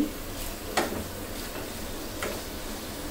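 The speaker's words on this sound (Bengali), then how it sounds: "এখন এটাকে ভালো মতন নেড়ে চেড়ে মিশিয়ে দিয়েছি" Chicken bhuna with special spice masala being stirred in a hot pan, a steady close sizzle broken by a few soft scrapes of the spoon.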